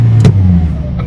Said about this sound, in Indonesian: Gas. Kaki kanan dengan RPM 2000 atau 3000.